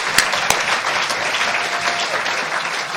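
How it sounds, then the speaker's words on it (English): Audience at a recovery group conference in Sacramento breaks into sustained applause, a few sharp nearby claps standing out early before the dense clapping settles into a steady wash. "you guys deserve a big round of applause"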